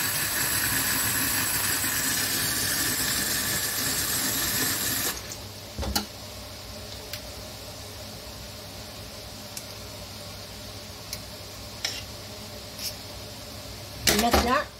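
Cold tap water runs loudly into a pot of rice for about five seconds, then stops, leaving quiet room tone broken by a few sharp clinks and knocks and a final short clatter of handling.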